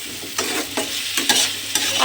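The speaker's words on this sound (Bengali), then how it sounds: "ভাজা মতো করে নিতে হবে।" Potato and taro pieces stir-fried in a pan for a rohu fish curry, giving a steady sizzle with rhythmic scraping strokes of a spatula about every half second, close and fairly loud, with no voices.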